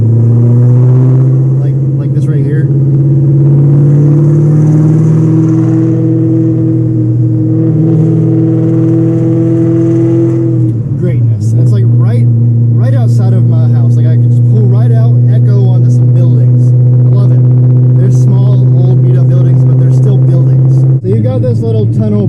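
A cammed Ford Terminator Cobra with a Borla Atak exhaust rumbles loud and close in a deep, steady drone that swells and shifts as it drives past old buildings, with someone talking briefly over it.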